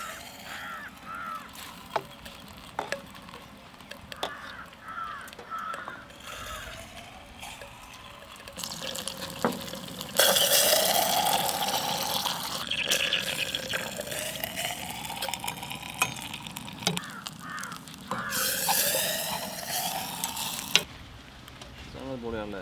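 Liquid is poured while making egg roll kulfi, giving a steady, splashy hiss that swells for several seconds amid kitchen clatter, with voices speaking in the background.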